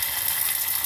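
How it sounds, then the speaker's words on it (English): Ground turmeric sizzling in melted butter in a pan, a bright continuous crackling hiss heard alone at close range. "the butter's now melted. With the turmeric sizzling along there nicely"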